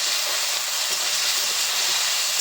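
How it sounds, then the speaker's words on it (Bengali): Cauliflower mash with turmeric fries in a pan for a Bengali fulkopi vorta, a loud continuous sizzling hiss that holds steady throughout. "এবার সব কিছুকে খুব ভালো করে ভেজে নেব"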